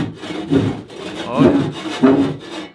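Close, loud scrubbing of an object being cleaned during house chores, three rough rubbing strokes in uneven rhythm, with a brief spoken remark.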